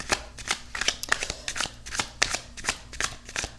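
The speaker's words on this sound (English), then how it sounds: "We'll do the Thoth Tarot. And we're just going to shuffle 3 times." Thoth Tarot cards being shuffled by hand in a quick, close series of riffling, papery bursts, several distinct shuffles in a row with no talking.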